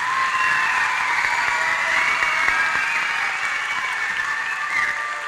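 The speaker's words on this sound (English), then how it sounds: "Can you all please give them a big round of applause?" Dense, sustained applause from a school audience at an elementary school Black History program, a steady wash of many hands clapping with faint cheering mixed in, loud and continuous throughout.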